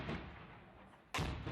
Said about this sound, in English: Only gunshots ring out.